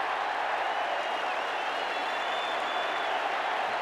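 A large stadium crowd at a Victoria versus South Australia State of Origin Australian rules football match applauds and cheers in a steady, dense roar that holds throughout.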